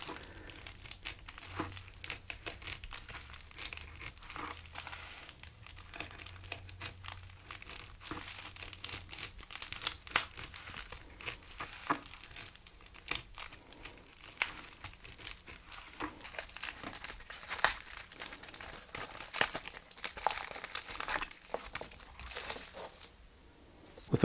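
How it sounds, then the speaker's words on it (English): An X-Acto knife cuts and scores the base piece of an ultralight backpacking pot cozy, with a steady run of faint crinkling, scraping and tearing textures close up, and no talking. "I'm going to cut the base piece with an X-Acto knife now."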